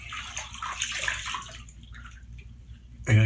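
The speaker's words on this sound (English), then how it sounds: "you really almost have to rinse and rinse a few times just to get that copious amount of soap out of your beard" Water running and splashing from a tap while rinsing thick shaving soap out of a beard, a close, fluctuating splashy flow with brief dripping, ending in a louder gurgling burst.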